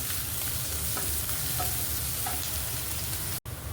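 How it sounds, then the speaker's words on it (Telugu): Beans and carrots for paneer fried rice fry steadily in a pan, a continuous close sizzle with a few light stirring scrapes, cutting off abruptly near the end. "కొంచెం క్యారెట్ వేసి కొంచెం దూరగా వేయించుకుందాం దీన్ని"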